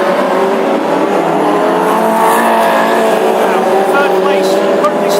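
Classic Hot Rods race cars roar past at Birmingham, engines revving and shifting in a loud, continuous pack while a commentator talks over the racing.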